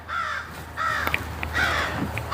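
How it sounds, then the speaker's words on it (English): Crows cawing outdoors near a fig tree, several harsh caws in quick succession with short gaps, fairly close and clear over a quiet background. "the crows see me doing stuff"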